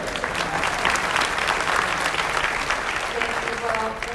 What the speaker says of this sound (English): Hey, we need to clap for her parents.